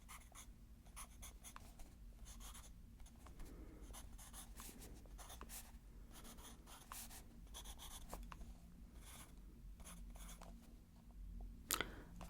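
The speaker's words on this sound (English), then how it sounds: "So, let's write down the ABCs, el abecedario." Handwriting the Spanish alphabet, pen or pencil scratching steadily across paper in close, soft strokes, continuing with short pauses for about twelve seconds, with no talking.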